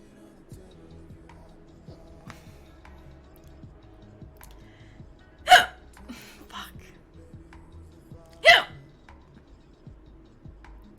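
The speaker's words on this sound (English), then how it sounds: "Should I just try to keep streaming like I don't have hiccups?" Two sharp, sudden hiccups, a few seconds apart, stand out against quiet background ticking from a woman on a livestream.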